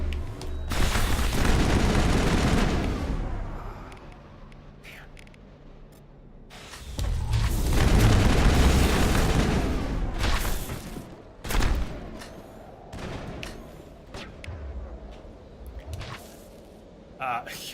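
Exploding enemies detonate in a Mass Effect battle, producing long rumbling bursts of explosions mixed with gunfire that come in waves, loud and close, with quieter stretches of combat noise between the blasts.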